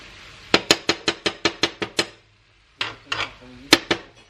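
Metal utensil clanking rapidly against a pan while stirring chicken with pesto and vegetables, a quick run of about ten sharp knocks, a pause, then a few more scrapes and taps.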